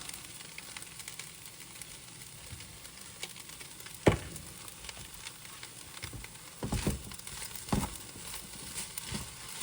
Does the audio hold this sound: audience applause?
no